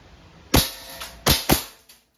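WE Hi-Capa 5.1 Type K airsoft pistol fired on semi-automatic, three sharp close snapping shots, the last two in quick succession, with quiet between them.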